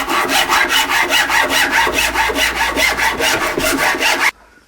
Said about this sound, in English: I'm going to use this much finer file because hopefully I'll have more control over